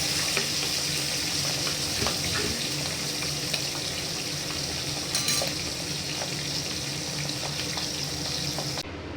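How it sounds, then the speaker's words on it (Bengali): Steady loud sizzling and crackling of pabda fish frying in hot oil in a kadai, constant throughout with occasional small pops, close by. "এবার এক এক করে আমি মাছগুলোকে ভেজে নেব"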